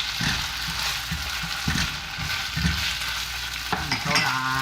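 Starch slurry poured into a hot wok of spicy eggplant with ground pork sets off a steady, close sizzle, broken by scraping stir strokes and short bursts of louder crackle, with no voices.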